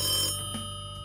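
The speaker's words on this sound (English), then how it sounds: "sorry, there shouldn't be anyone calling right now." A telephone rings with a brief bright electronic chime at the start, then fades out over a second, alone and fairly close.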